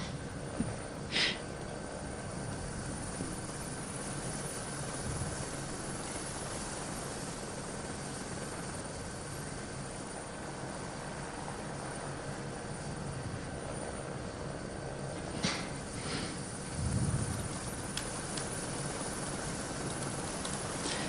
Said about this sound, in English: we are not hearing any sound from the podium, but only the helicopter sound